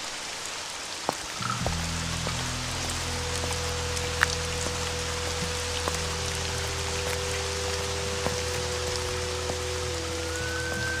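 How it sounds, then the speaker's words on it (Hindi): Steady rain falls at night near a broken hut and bamboo forest, a dense, even hiss that fills the whole stretch, with faint low tones running underneath. "बारिश भी तो कम हो चुकी है।"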